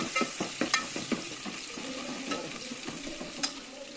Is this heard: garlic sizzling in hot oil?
yes